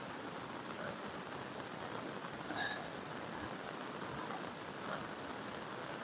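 Heavy wind-driven rain falls around Kalasa in Karnataka's hill country, where streams and bridges are flooding: a dense, steady broadband hiss of downpour throughout, with no voices.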